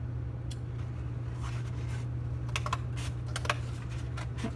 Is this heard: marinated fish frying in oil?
no